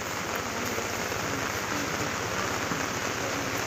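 Heavy rain pours at an outdoor market, a dense, steady hiss of drops drumming on surfaces with no let-up and no voices.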